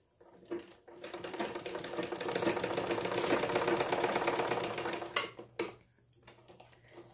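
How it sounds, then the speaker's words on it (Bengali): A sewing machine runs a steady, fast mechanical stitch along the side seam of a gathered round petticoat, building to a continuous whir before stopping abruptly near the end, with short pauses at the start. "এই সাইডটাও আমি সেলাই করে নিচ্ছি।"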